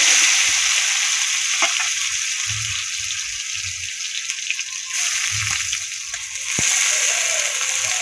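Potatoes fry in hot oil with a steady, fairly loud sizzle, punctuated by low knocks and clatters of pan handling and a brief surge in the hiss near the end.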